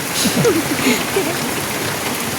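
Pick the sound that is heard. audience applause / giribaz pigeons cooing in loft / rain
rain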